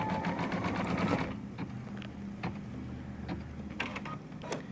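An embroidery sewing machine stitches steadily, giving a fast mechanical whir with repeated rhythmic clicks and clacks, close and fairly quiet, with no talking.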